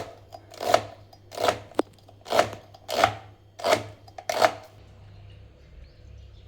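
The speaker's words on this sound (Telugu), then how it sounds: "మేమైతే ఉల్లిగడ్డలు ఇప్పుడు సన్నం కడిగేస్తున్నాం." Onions being finely chopped with a knife on a board: six sharp, evenly spaced chops, close and clear, followed by quiet.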